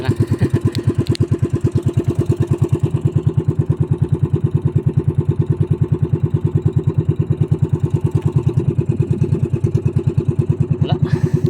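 A motorcycle engine idles steadily with a fast, even chugging pulse and some mechanical clatter, close by and loud throughout.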